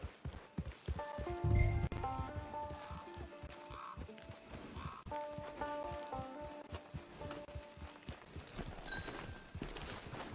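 Horse hooves clip-clopping in Red Dead Redemption 2, a steady walking rhythm of hoof falls near at hand, with a low thump early on and faint background music.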